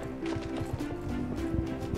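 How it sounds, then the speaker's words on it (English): In the video game Star Stable, a horse trots with a brisk, even clip-clop of hooves, close and clear over a steady background of in-game music. "That's one of the horses I have."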